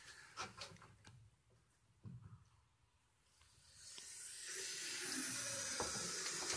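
Rainwater pours into a worm bin kept in a basement, a soft, close hiss of running water that builds after a few quiet knocks and handling sounds and stays steady to the end.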